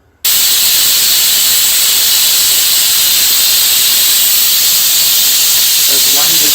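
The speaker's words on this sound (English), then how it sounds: "There's 1 whistle, and we're going to turn off the gas." A pressure cooker's whistle vents steam in a loud, continuous hiss that bursts on abruptly and holds steady at close range, with a voice starting to speak faintly at the very end.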